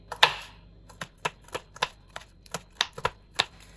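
Green chili being cut into small pieces on a cutting board, a series of about a dozen crisp, separate knife taps at an uneven rhythm, close and clear with no talking.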